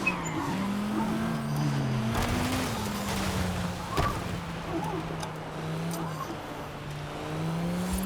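An all-wheel drive BMW drifts through a drift zone in Forza Horizon on Fortune Island, its engine droning and revving with shifting pitch and tyre skid noise, continuous and fairly close throughout.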